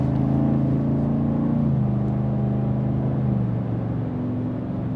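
A 2025 GMC Sierra 1500 Denali pickup's V8 engine in sport mode gives a loud, steady droning growl whose pitch drops briefly and then climbs again, heard close and alone with no talking.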